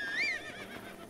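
A horse in Zelda: Breath of the Wild gives a single short, bright whinny that rises and then falls, heard near and alone, with faint hoofbeats behind it.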